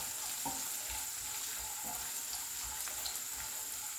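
Cashews and raisins frying in hot ghee in a pan, a continuous soft sizzle with occasional stirring clicks, close and steady, no voices.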